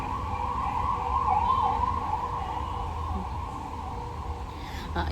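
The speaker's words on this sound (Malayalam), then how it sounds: "അയ്യോ വീണ്ടും ആംബുലൻസ്" An ambulance siren wails continuously as it passes, its rising and falling tone loud and steady over low road rumble.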